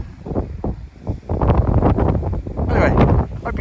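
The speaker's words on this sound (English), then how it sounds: "hope you can hear this bloody wind" Strong wind buffeting the microphone outdoors in an open field in the UK during metal detecting, loud gusting rumble that rises and falls throughout, with a man's speech mixed into the noise.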